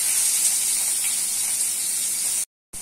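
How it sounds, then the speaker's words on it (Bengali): Soya chunks frying in hot oil in a wok make a constant hissing sizzle that runs unbroken and loud, then cuts out briefly before resuming near the end. "কড়া বসিয়ে দিচ্ছি, তেল গরম করে দিচ্ছি, সোয়াবিন লাল করে তুলে নিতে হবে"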